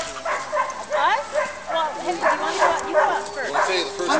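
Several sled dogs bark, yip and whine in an excited chorus outdoors in snow at Big Bear, with overlapping calls repeating steadily at close range and people talking over them.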